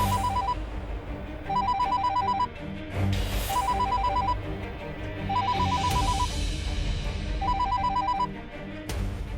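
A telephone rings indoors in a repeating double-trill pattern, five bursts close and clear, with a faint background hum and no talk over it.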